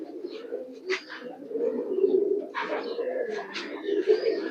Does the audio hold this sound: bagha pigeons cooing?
yes